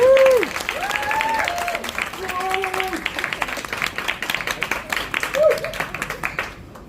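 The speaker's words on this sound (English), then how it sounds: "give them a massive round of applause, please" An audience at the launch event for Secret Cinema's 2025 Grease show breaks into steady applause, with whoops and cheers rising over the clapping. The applause thins into scattered claps toward the end.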